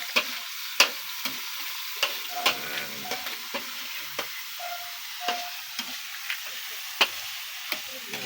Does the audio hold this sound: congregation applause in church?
no